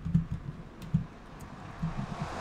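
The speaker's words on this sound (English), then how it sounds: "My keyboard keeps sliding around." Computer keyboard sliding and bumping on a desk, giving a few soft low thuds and scrapes at irregular moments over a quiet room background, with no talking.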